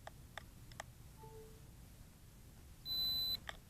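A Holystone HS360D drone beeps while connecting to its remote controller: two short, faint electronic tones, the second higher and louder, over a quiet background with a few soft clicks.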